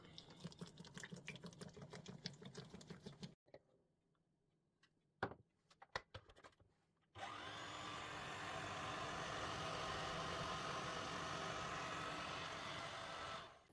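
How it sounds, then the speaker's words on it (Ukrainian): A food processor kneads yeast dough for an Easter cruffin, a steady mechanical whir with a low churning hum that starts abruptly after a pause filled with faint clicks and thumps. "Я спочатку додам небагато борошна, а потім буду вимішувати за допомогою помічника."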